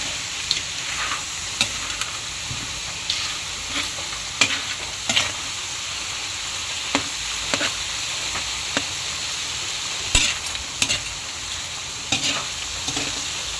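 Vegetables and miki noodles stirred in a frying pan, a continuous close sizzle with sharp spatula knocks and scrapes scattered irregularly through it, no voices.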